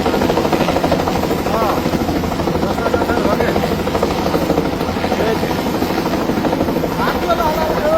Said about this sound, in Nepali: एउटा बच्चालाई चाहिँ हेलिकप्टर आएर उद्धार गर्दैछ